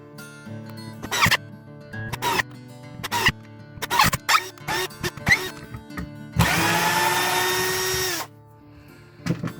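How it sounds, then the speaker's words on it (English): A power drill drives screws into wood for a champagne display cart, delivering a string of short whirring bursts followed by one longer sustained run, close and loud, with quiet gaps between and no talking. "what I'm going to do is just put the screws in now"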